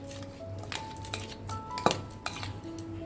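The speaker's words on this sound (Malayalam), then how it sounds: "നമുക്കൊരു കുക്കറിലേക്ക് ഇട്ട് കൊടുക്കാം" Washed toor dal, half a cup, tipped into a pressure cooker in a home kitchen, with soft metallic clinks and a sharper clatter near the middle against a quiet background.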